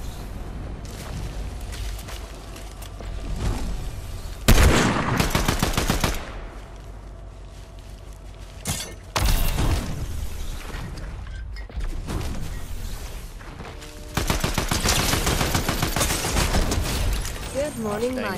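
Rapid bursts of auto shotgun fire in Fortnite, loud repeated blasts in several volleys throughout, with a player talking excitedly over the gunfire.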